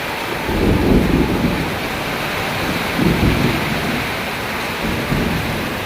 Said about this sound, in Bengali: প্রচণ্ড তাপদাহের পরে যেমন বৃষ্টি শুরু হয়েছে, ঠিক তেমনি আকাশে বজ্রপাত শুরু হয়েছে